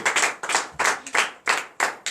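Rhythmic group clapping at a Friday night deliverance and prophecy church service in Comè, Benin, in strong unison beats of about two or three quick claps per burst, close and loud, with no talking.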